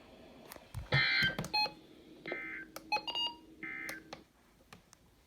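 Tests of an L.L. Bean weather radio's NOAA alert give short electronic beeps and tone bursts separated by pauses, close and fairly quiet.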